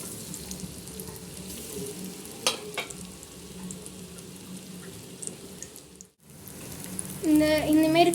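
Paneer pieces dipped in spice powder fry in hot oil with a steady crackling sizzle, a brief gap near the end, then a short voice-like tone over the frying.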